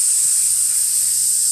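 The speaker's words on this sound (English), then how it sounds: "Like, is something frying in the kitchen?" Sizzling hiss from the video game Resident Evil Village, a continuous bright, steady frying-like sizzle that holds evenly for the whole moment with little else beneath it.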